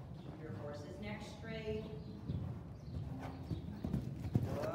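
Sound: horse hooves during a riding lesson

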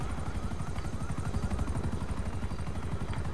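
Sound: helicopter in GTA 5 Online video game

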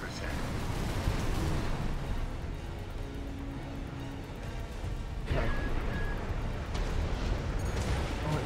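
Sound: coral explosions in Armored Core 6 video game

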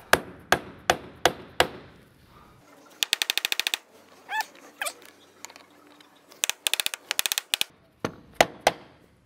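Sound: hammer tapping in rear main seal

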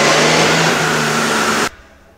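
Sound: car engine revving on dyno run without silencer ring

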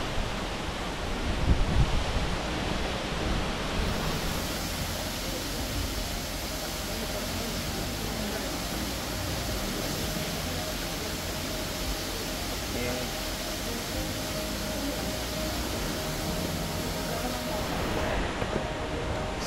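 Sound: Rainbow Falls waterfall roaring, Meghalaya

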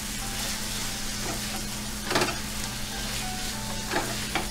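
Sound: onions frying with salt and chili powder, stirred

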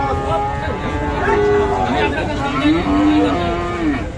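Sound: Sahiwal cattle mooing at livestock market

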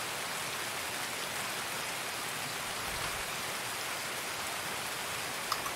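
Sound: loud rain in the video game Escape from Tarkov

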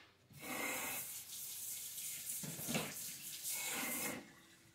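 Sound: rinsing a whole cucumber under a running tap

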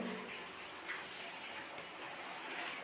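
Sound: pouring a little water into the catla fish curry

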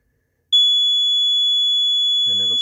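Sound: sump pump overflow alarm sounding, triggered by its float switch

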